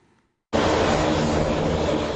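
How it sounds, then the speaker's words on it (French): A Jetstream airliner of a small airline on its inaugural flight between Guadeloupe and Martinique, its engines cutting in abruptly after a brief near-silence and holding as a loud, steady, close roar. "la petite compagnie a lancé son avion aujourd'hui, son premier vol officiel entre la Guadeloupe et la Martinique"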